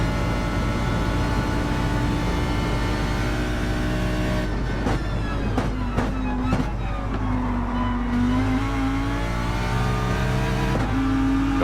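NASCAR race cars in Gran Turismo 7 at Atlanta, engines droning loudly and continuously at high revs with pitch shifts as cars pass and jostle for position, no talk.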